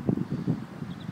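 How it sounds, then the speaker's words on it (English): Strong wind gusts outdoors in London buffet the microphone, giving low, uneven rumbling bursts that rise and fall in quick succession. "Bear in mind, it's very windy."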